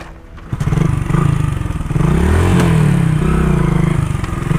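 An old, battered motorcycle engine runs loudly and roughly with a rattling clatter, starting after a brief quiet moment and holding a steady, revving drone close by for the rest of the clip.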